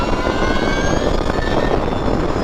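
A 2022 Energica Ribelle RS electric motorcycle accelerates at half throttle, a loud rising electric motor whine with rushing wind noise, steady and close, with no talking.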